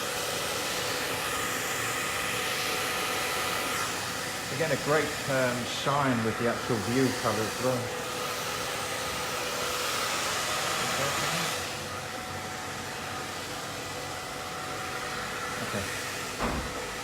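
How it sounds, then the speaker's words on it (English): A hair dryer blowing steadily while a short bob haircut is blow-dried in a salon, a constant close whooshing hum throughout, with a person talking over it partway through. "As I'm blow drying, I'm checking my haircut visually as well."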